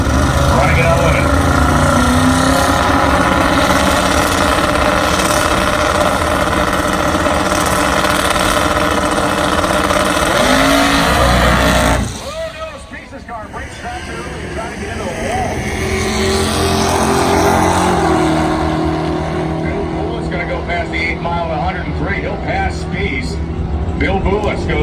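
Hot rod drag racing car at Drag Week roars hard off the line with a loud, sustained engine blare that drops away partway through, then builds again as the car pulls down the track.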